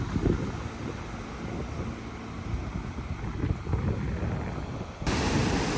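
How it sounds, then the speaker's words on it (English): Steady surf and rolling ocean waves at a San Diego beach on a breezy, cloudy day, a broad continuous wash with wind buffeting the microphone and a louder surge near the end. "And we made it to the beach."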